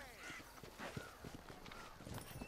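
Horse hooves in the Red Dead Redemption video game, a quick, muffled clip-clop of a running horse under game sounds, with speech over it.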